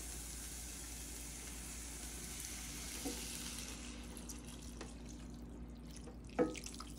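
Two cups of beef broth stream steadily into a rice casserole made with minute rice for stuffed peppers, a soft continuous liquid pour with a few faint clinks, close and quiet.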